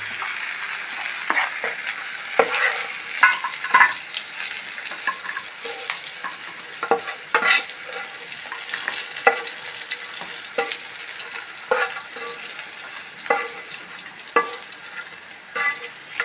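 An onion and chili mixture for chammanthi fries in a pan, a continuous close sizzle broken by regular scraping stir strokes every second or so, with no talking.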